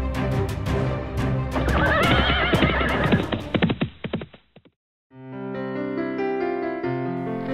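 A horse in an animated folk-tale cartoon gives a loud, close, wavering whinny with a few hoof clops, cut off briefly before a sustained musical tone follows.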